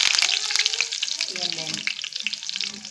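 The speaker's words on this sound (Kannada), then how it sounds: "ಎಲ್ಲ ಆದಮೇಲೆ ಲಾಸ್ಟಲ್ಲಿ ಒಂದು ಸ್ವಲ್ಪ ಕರಿಬೇವು ಫ್ರೈ ಮಾಡ್ತೀನಿ." Curry leaves frying in hot oil, with a loud, close, continuous sizzle and crackle and some stirring underneath, lasting the whole moment.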